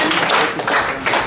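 Audience clapping for a politician at a farmers' meeting, a short burst of brisk, loud, close hand claps with a slight dip partway through.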